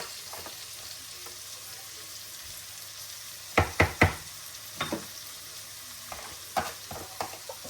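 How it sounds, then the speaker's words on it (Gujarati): Frozen chili paste sautéing in hot oil gives a steady, close sizzle with a few sharp stirring knocks and clatters partway through. No one talks. "તો મરચાંની પેસ્ટ નાખી દીધી છે અને થોડી વાર તેલમાં આવી રીતે સતળાવા દેવાની"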